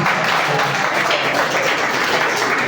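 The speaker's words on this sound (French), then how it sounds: "Donc on applaudit, on applaudit," Audience applause during a public speaking training session, a loud, dense wash of many hands clapping continuously without pause.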